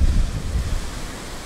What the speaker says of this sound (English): Look at this, absolutely gorgeous blue ocean right there.